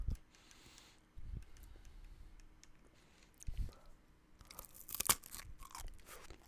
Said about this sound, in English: It's a very crunchy cone.